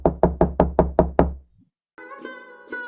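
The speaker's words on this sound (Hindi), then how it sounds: "सुखीलाल के आलीशान घर का दरवाजा खटखटाती है।" Six firm, evenly spaced knocks on the door of a luxurious village house ring out close and loud, followed by a short silence and then a sustained musical tone.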